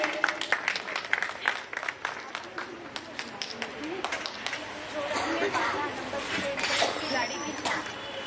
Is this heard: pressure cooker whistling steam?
no